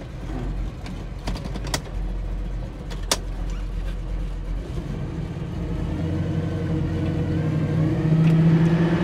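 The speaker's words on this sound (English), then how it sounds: "And the car runs fantastic, and it's idling very nicely." A 1970 Chevrolet Nova engine runs steadily at idle, a close, continuous low rumble with a slight rise in pitch toward the end, with no talk over it.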